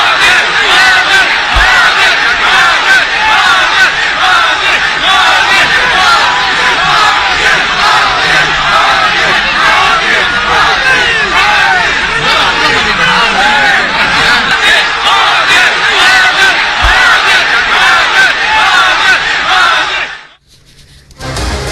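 A large, dense crowd gathered for the Prime Minister after the Chandrayaan-3 moon landing cheers and shouts continuously and loudly, the roar sustained for about twenty seconds before cutting off abruptly.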